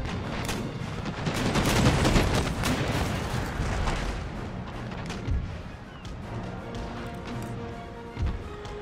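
Naval cannon broadside fire in the Empire: Total War game, a dense rolling barrage of booming shots and crashes that swells early and then continues with scattered heavy reports.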